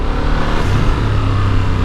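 Ducati Multistrada V2 motorcycle with a V-twin engine pulling under throttle at low revs, a loud, steady, close-up engine drone with a slightly lumpy pulse throughout.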